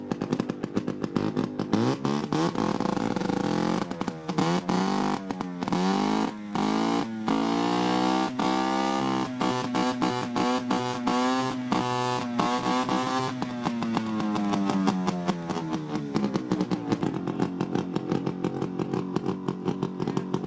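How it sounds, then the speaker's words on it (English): A vintage snowmobile engine with megaphone cone exhausts blats and roars up close, with repeated sharp throttle blips and longer revving pulls rising and falling in pitch, harsh and very loud throughout. "Well, Mike, I think that you just won the loud snowmobile contest."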